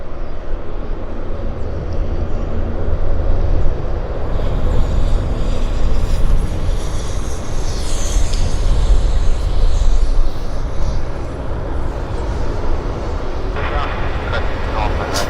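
WestJet flight 3355 bound for Victoria at Vancouver Airport, a loud steady jet engine roar throughout, with a person talking over it.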